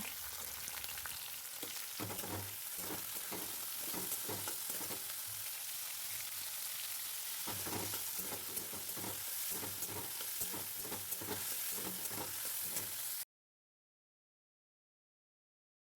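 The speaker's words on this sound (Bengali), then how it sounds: "সামান্য নুন দিয়ে গাজর আর বিনসটাকে ভালো করে ভেজে নেব" Carrots and beans with a pinch of salt sizzle steadily in a pan, with repeated stirring scrapes in an uneven rhythm, close and continuous before cutting off.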